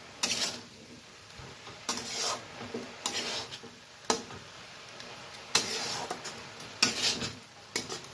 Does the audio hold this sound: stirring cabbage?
yes